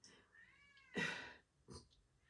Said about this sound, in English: oh, you can hear my cat.